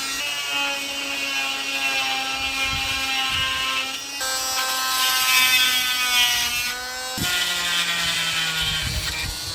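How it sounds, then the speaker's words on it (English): Dremel fitted with a drywall blade cutting through a plastic Chevy truck grill: a steady high-pitched whine with shifting harmonics as the blade bites the plastic, continuous and close throughout. "We're using a Dremel with a drywall blade."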